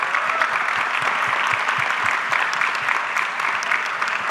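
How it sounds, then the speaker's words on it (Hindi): A hall audience at a property expo inauguration applauds the Chief Minister, a dense, steady wash of many hands clapping, loud and sustained throughout without a break. "ये हॉल तालियों से गूंजना चाहिए मेरे दोस्त"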